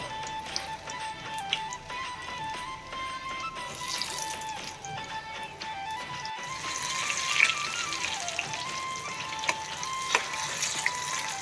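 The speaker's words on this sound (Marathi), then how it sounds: "आता आपण मिरच्या तळून घेऊया" Green chillies fry in hot oil for mixed vegetable pakoras, giving a steady close sizzle and crackle with a faint tone running through it and occasional sharper pops.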